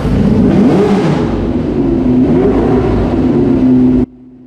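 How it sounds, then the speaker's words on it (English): A 1970s Formula One car engine revs loudly up and down, a harsh roaring whine close by, then cuts abruptly to a low idle. "the monstrous sound of a 1970s Formula One car roaring into life"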